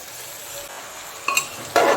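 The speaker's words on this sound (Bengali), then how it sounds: "একসঙ্গে আরেকটু ভেজে নেব" Soaked peas frying and being stirred in a pan for vegetarian ghugni, with a low steady sizzle and two brief scraping stir bursts near the end, no talk.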